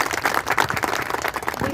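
Audience clapping at a district disability-welfare event in Deoria, Uttar Pradesh, a dense, steady patter of many hands close by for under two seconds, no voices over it.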